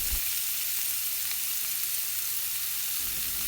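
Chopped onion frying in a pan for a potato subzi, a steady dense sizzle that fills the whole stretch, close and even, with no voices.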